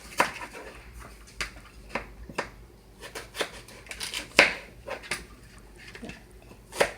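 Knife cutting sweet potato into fries on a board, a series of close, sharp chopping knocks at an irregular rhythm, roughly a dozen strikes over a quiet background.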